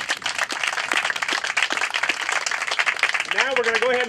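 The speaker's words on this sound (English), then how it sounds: "everyone who worked here a round of applause." Applause from a crowd at an outdoor ribbon cutting for a business and technology park in Leavenworth, scattered claps under someone speaking over a PA.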